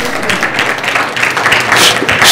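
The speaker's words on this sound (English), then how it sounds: "Clap for the Lord." A church congregation clapping together during a Sunday service, a dense, loud and continuous wash of applause filling the room with no break.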